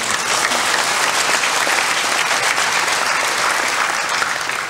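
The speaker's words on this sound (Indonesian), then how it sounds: "Tepuk tangan." A large audience at a university graduation ceremony at ITB breaks into applause during an address by the vice president. The clapping is dense, loud and sustained, with no voices over it.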